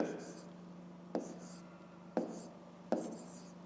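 A pen scratching across paper during a fifth-grade maths exercise: three or four short, distinct strokes spaced about a second apart, close and fairly quiet over a steady low hum.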